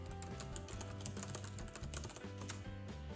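Rapid typing on a computer keyboard while entering a command to install Git on elementaryOS Loki, a dense run of clicking keystrokes close to the mic over steady tonal background music.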